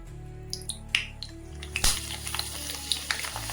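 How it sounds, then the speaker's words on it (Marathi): A poha papad frying in hot oil over a medium gas flame, soft scattered crackles and pops over a quiet background hum, no talking. "आता पापड तळून पाहूया."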